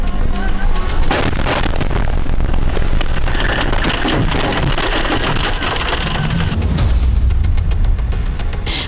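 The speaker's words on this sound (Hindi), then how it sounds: "एक चलती कार के सामने जबरदस्त धमाका हुआ" A loud, dense roar of blast-like booms and rumbling from a bomb attack in western Tehran, sustained throughout with crackling debris-like noise and no clear talk.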